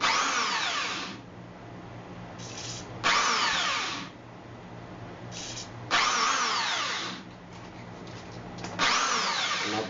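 A power drill spins a stuck exhaust fan during oiling, running in repeated bursts of about a second each, loud and close, with quieter whirring gaps between them.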